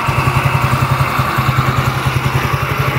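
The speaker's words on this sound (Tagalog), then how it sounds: "mga motor na kasama namin kasabay" Several motorcycles ride together on the way home, their engines giving a steady, rhythmic low throb that pulses continuously up close, with no talk over it.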